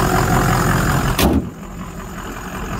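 A 2004 Ford F350 4x4 Lariat dually flatbed with about 200,000 miles idles with a steady, rumbling engine drone, briefly shifting in tone partway through.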